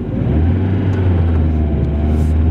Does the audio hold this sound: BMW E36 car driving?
yes